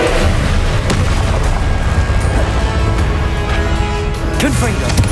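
Incendio fire spell cast over and over amid a dense, continuous barrage of fiery bursts and booming impacts in the Hogwarts Legacy video game, loud throughout, with a voice in the background.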